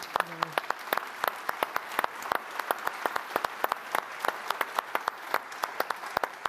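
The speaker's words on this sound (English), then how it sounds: "Let us give His Holiness a round of applause" Audience at an FAO gathering applauding Pope Leo XIV, a steady wash of many hands clapping at middle distance with sharper individual claps standing out throughout.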